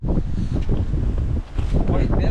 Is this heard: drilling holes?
no